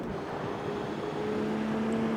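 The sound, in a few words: BMW E93 M3 car engine in video game CarX Street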